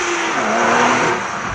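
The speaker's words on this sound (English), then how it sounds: "it revs out. It makes power all the way to its red line." A twin-turbo Porsche 911 Carrera with a manual gearbox on a race track gives a loud, close engine howl in a brief burst, its pitch sliding downward, with no talking.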